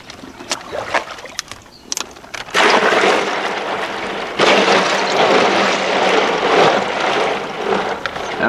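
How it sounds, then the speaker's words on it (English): Old lake water gushing from a gallon bag into a cooler, a steady loud splashing pour that starts after a few quieter handling noises and keeps running to the end. "I'm actually going to use the gallon bag to put just some old lake water in this cooler."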